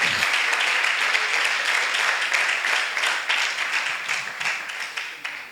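A church congregation applauds at a sermon, steady dense clapping from a crowd that holds for several seconds and then thins toward the end.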